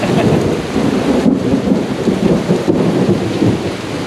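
Loud, deep rolling thunder rumbles on through a windy, light drizzle, with rain hissing steadily and gusts of wind around it; no one speaks.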